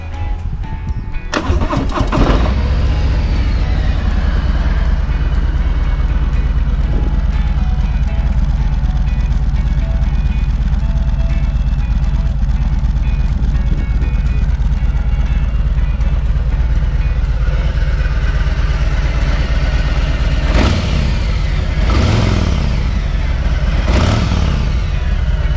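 A 2020 Harley-Davidson Road Glide Special starts up loud and close, with a brief crank that catches into a deep, steady rumbling idle and a pair of throttle blips near the end.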